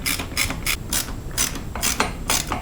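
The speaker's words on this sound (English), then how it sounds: "So I'll do them with my torque wrench first." A torque wrench ratchets in quick, steady, loud clicks while tightening crankcase bolts on a Suzuki GSX1100 engine rebuild, with the clicks coming in repeated pulses and no talking.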